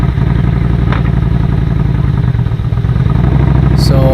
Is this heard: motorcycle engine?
yes